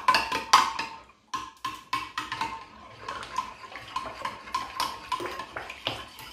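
A spoon stirs an egg into a köfte mixture in a metal bowl, giving a rapid, uneven run of close clinking scrapes against the bowl, with a short pause early on and no voices.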